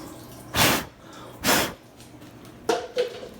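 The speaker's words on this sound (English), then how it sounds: "So we gotta just pour this water over here." Water poured over a first-generation Toyota Tacoma to test for leaks lands in two heavy splashing gushes about a second apart, followed by shorter, lighter splashes and drips close by.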